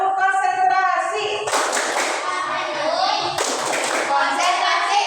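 Indonesian primary class doing a concentration clap routine: two bursts of rapid group clapping, loud and near, alternating with children chanting in unison.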